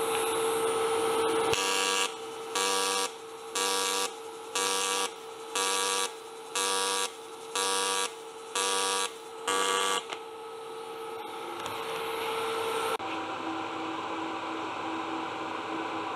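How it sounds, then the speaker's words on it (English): Kemppi MasterTIG 235 welder TIG welding 2mm aluminium in mix mode, a loud electric buzzing arc that pulses on and off in a regular rhythm about once per second before settling to a steadier hiss. "Another pretty average weld."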